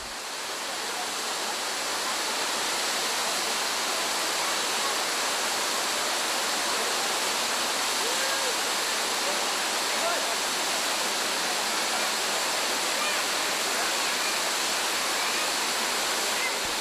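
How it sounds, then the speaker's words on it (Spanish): A waterfall in Jordan pours steadily into a natural pool below, a dense, unbroken broadband rush of falling water that holds constant and close throughout, with no voices. "En la segunda cascada, la formación de una piscina natural favorece el baño"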